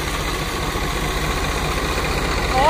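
An old tractor pulling a heavy harrow runs with a steady low, throbbing engine rumble, close and continuous, with a voice talking briefly near the end.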